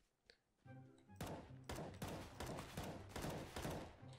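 Gunfire rattles out in a PUBG-style mode of CS:GO, with a short burst of rapid shots following a faint early pop, loud and close in the game mix.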